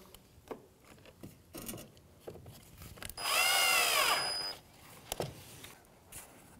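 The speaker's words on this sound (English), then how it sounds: "Now we're gonna go ahead and install our Phillips screws all the way around the top grille." A power drill runs in one sustained whine for about a second and a half, driving Phillips screws into the top grille trim of a 2007–2013 Mitsubishi Outlander, with softer clicks and handling noises before and after.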